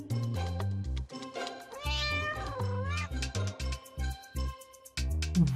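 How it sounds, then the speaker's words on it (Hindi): Cartoon cat meowing repeatedly in a Hindi kids' animated story, loud and close, with music and sound effects underneath. "जुमन भाई ये रही आपकी बिल्ली।"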